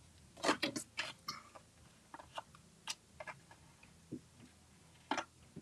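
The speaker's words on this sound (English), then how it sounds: "Let me use my scissors here." Scissors snipping through paper while making a slimline pop-up card, a handful of quiet, crisp cuts and clicks spaced irregularly, close and alone.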